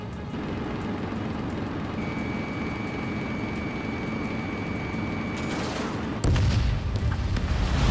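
Jet roar from enemy aircraft in the Ace Combat 7 video game: a steady, loud engine wash with a thin whine, ending in a heavier burst of rumble near the close.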